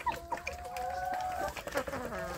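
Free-range village chicks peep and cluck close by in a short burst of overlapping high calls, with light background noise.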